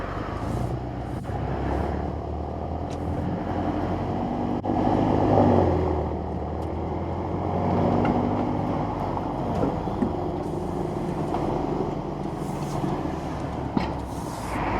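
BMW X6M F86 SUV with 580 bhp, cruising in normal automatic mode: a steady low engine and road drone with tyre and wind noise, continuous and fairly loud throughout.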